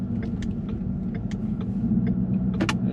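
A 2017 Ford Mustang GT on the move, heard as a steady low engine rumble and road drone throughout, with a few faint higher ticks and noises on top.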